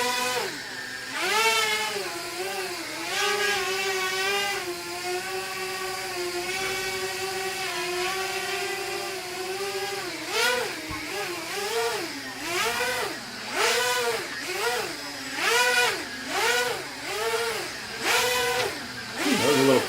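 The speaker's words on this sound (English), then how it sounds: "You can hear the motors spooling up properly." Small electric motors of a Blade 200QX quadcopter whine and spin, holding a steady pitch before rising and falling repeatedly in pulsing surges as it maneuvers nearby, with reduced motor power.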